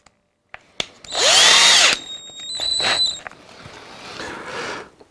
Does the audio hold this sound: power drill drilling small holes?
yes